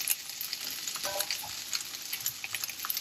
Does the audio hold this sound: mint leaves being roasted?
yes